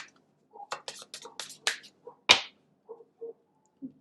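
Tarot cards are shuffled in a quiet room, a series of short, crisp riffling and slapping bursts in quick succession, with one sharper snap in the middle and a few softer taps trailing off.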